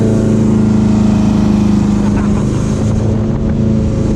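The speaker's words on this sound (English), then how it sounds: "So this is it, the jet boat." A jet boat roars across a shallow lake at an amusement park. The engine drone is loud, close and steady throughout, with wind buffeting the microphone.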